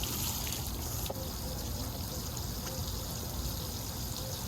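Water from a garden hose pours steadily into an above-ground pool pump to prime it, a continuous close trickling and splashing with no talk.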